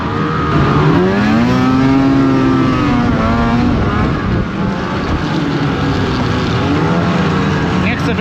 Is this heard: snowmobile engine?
yes